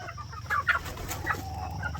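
Chickens at feeding time on a farm raising several breeds, with a few short clucks rising over a steady low barnyard rumble, fairly close and moderately loud.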